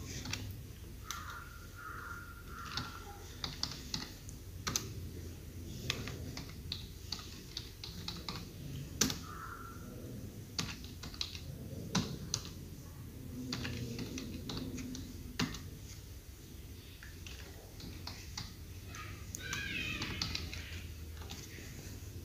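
Student names are typed on a computer keyboard, a quiet, irregular run of soft key clicks with brief pauses and faint room noise, no speech.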